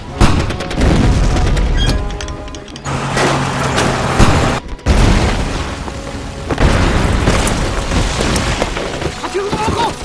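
Artillery fire in a Chinese war film about the Hundred Regiments Offensive: heavy booming blasts and rumbling detonations one after another, loud and dense, with brief gaps between volleys and a soundtrack-like mix.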